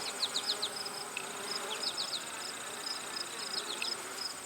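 Honeybees buzzing during an inspection of a likely queenless hive, a steady close drone with quick high chirping tones repeating over it.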